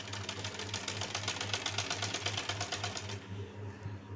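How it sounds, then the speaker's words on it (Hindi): A sewing machine runs a steady, rapid stitch while sewing a garment neckline with a lining set inside, a close, continuous rattling hum that stops abruptly near the end. "अच्छे से एक बार सिलाई चला लेनी है"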